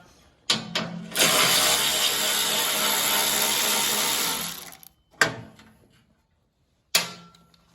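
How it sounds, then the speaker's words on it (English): A ratchet loosens bolts on a Yard Man snow thrower's Power More engine, giving one long, steady run of close ratcheting clicks followed by two brief metallic bursts, with no talking. "So I'm going to take these bolts off."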